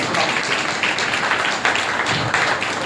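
An audience claps for a doctor at a Christian teaching event, a steady, fairly loud wash of applause through the whole stretch with some voices mixed in.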